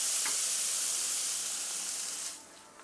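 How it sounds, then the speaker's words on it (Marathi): Vatana (green pea) thalipeeth sizzles on a hot tawa griddle over a medium gas flame: a steady, close, bright hiss that holds evenly, then eases off near the end, with no talking. "तवा ठेवलेला आहे गरम करायला, त्याच्यावर आपण हे काढून घेऊया।"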